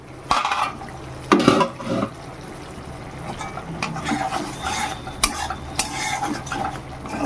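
Spice masala with softened tomatoes is stirred and fried in a pan for a khoira fish curry, with a utensil scraping and clinking against the pan in irregular knocks over a steady low sizzle, close up and with no talk.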